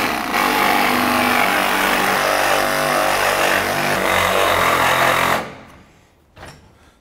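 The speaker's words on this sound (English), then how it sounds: "better find some kind of reciprocating cutting machine" A reciprocating saw fitted with a carbide blade chatters loudly and continuously through the rear rally suspension of a BMW Mini Cooper S, running hard for about five seconds before stopping, then a brief clunk.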